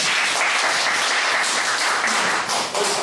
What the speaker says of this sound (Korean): 교수님께 다시 한번 큰 박수 감사합니다